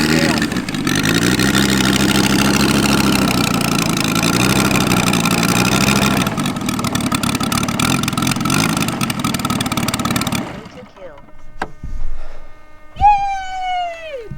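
The engine of a 111-inch TopRc T-28 Trojan composite RC model airplane with a UMS 180 engine drones loudly and steadily with slight pitch shifts for about ten seconds, then falls away to quieter sounds and a brief voice.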